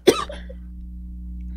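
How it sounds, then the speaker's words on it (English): A single sharp cough from a person on a live art stream, close to the microphone, followed by quiet room hum. "Wow, I'm coughing."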